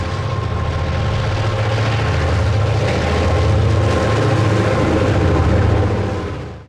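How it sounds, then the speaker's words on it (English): An Erie Lackawanna train with Santa Fe cars rolls past in a steady, fairly loud diesel rumble with a rhythmic wheel pulse, fading out at the very end with no voices. "Here comes a Nikon train with Santa Fe cars."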